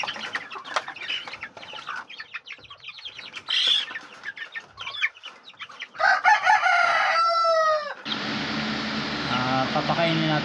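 Backyard chickens clucking and a rooster crowing at feeding time, many birds close by and loud, a few long crows near the end over steady clucking, with a voice talking earlier.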